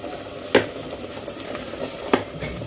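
Garam masala stirred into sizzling oil in a pan, a soft continuous fry with three sharp spoon scrapes against the metal, close by and without talk.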